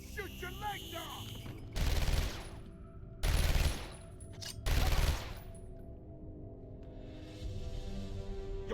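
Henchmen in Batman Arkham Asylum fire guns in three loud, separate automatic bursts about a second and a half apart, with game ambience and a voice between them.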